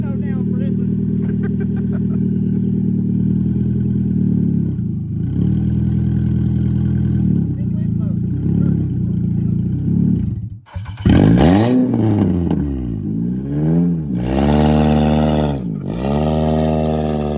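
A junkyard Nissan Altima's engine runs close and loud, holding a rough, steady drone, then revving up and down in big swells; people talk over it.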